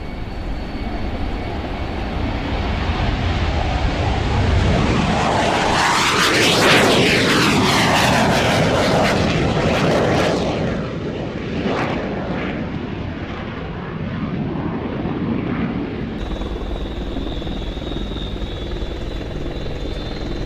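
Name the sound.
NATO AWACS aircraft engines flying overhead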